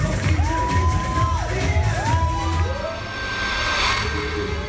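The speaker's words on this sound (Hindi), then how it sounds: "करण ने अपने डांस मूव से बटोरी खूब तालियां।" Party crowd cheering and whooping after a dance performance, with lively shouts and rising calls over a steady din of voices.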